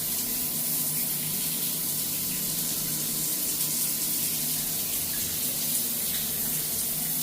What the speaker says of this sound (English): And then you just lift it up and then the water come out.